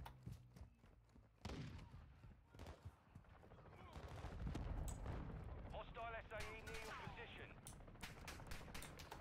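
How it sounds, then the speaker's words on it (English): Gunfire in an online shooter video game, with sharp shots aimed at the player crackling in bursts early on and then mixing into a denser, rumbling battle noise with other game sounds throughout. "who is shooting at me?"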